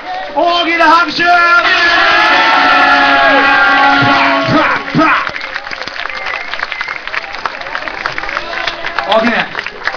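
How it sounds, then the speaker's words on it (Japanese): A crowd at an outdoor summer festival in Kamagasaki gives loud, sustained applause with whoops and cheers. A voice speaks and chants over it before the clapping thins out into scattered claps and crowd noise. "チームバリアフリーに大きな拍手。"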